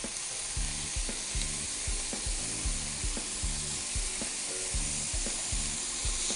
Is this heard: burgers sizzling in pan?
yes